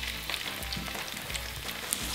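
Chopped tomatoes and garlic hitting a hot pan for a classic tomato spaghetti sauce, giving a soft, steady sizzle with small crackles and pops, fairly quiet and with no voices.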